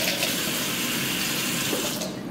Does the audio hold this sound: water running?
yes